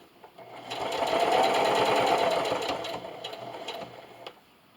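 A sewing machine hums steadily at close range as it stitches fabric past a strip of elastic for a rollup silverware holder. It is one continuous run of a few seconds that fades at the end, with no talking.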